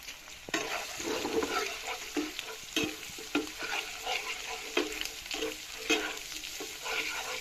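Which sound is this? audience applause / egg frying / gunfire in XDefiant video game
egg frying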